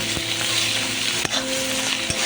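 Ginger garlic paste frying and being stirred in a hot pan, a loud continuous close sizzle broken by a few sharp scrapes of the spoon, with no talking.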